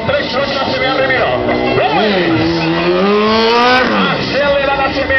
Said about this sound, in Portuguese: Acelera na CBR 1000.